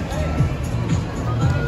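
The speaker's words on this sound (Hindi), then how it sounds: "और भीड़ देखो कितनी इकट्ठी हो रखी है" Dense crowd hubbub fills an indoor shopping mall near a children's play zone in Delhi, a steady babble of many distant voices with a nearer voice talking over it.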